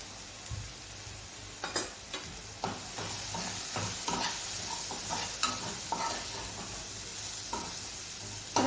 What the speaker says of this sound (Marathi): मिक्स करून आणखीन दोन मिनिट आपल्याला असंच शिजू द्यायचे फ्राय होऊ द्यायचे